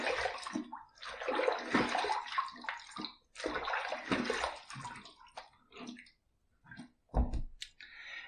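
A Blackland Era razor with a level 4 plate is rinsed under running water, with splashing and gurgling bursts and a few clicks as it is tapped and turned.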